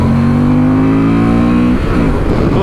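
A 2024 Honda Transalp 750 motorcycle pulls hard in third gear, its engine note climbing loudly and steadily, then breaking into a rougher, uneven rumble near the end; no talk over it.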